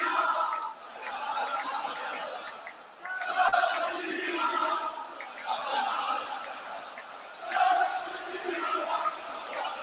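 Large arena crowd at the WWE Clash at Paris wrestling event, a continuous roar of cheering and chatter filling the space, swelling in loud surges with scattered shouts and laughter throughout.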